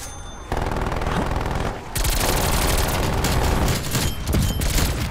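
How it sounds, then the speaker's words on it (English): Sentry turret firing in a video game match, loud continuous rapid gunfire bursts with a brief pause early on, then sustained fire to the end. "Sentry turret locked and loaded."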